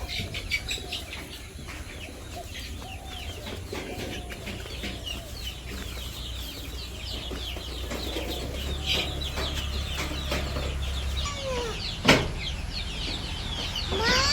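Village chickens cluck and chirp while being fed in the morning, scattered calls near and far over a low hum, with a brief sharp knock near the end.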